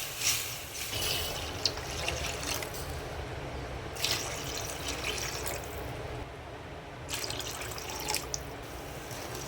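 Water runs and splashes steadily into a pot, about four tumblers poured for mushroom soup, with a couple of brief pauses and small clinks between pours.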